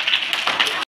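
Second-grade schoolchildren clap together in a classroom, a dense burst of claps lasting just under a second before cutting off abruptly.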